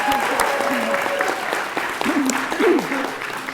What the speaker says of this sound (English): Oh, you get to clap again.